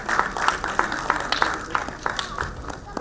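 Applause from the audience at an awards presentation in Chennai, a steady patter of clapping running through the whole stretch, moderately loud with sharper individual claps standing out.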